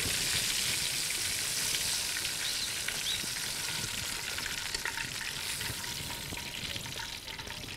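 Fish frying in hot oil makes a dense, continuous, crackling sizzle that stays loud and steady throughout, with no voices over it.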